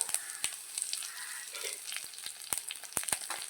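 Curry leaves hitting hot oil in a pan, a steady close hiss of sizzling with scattered sharp pops and crackles throughout.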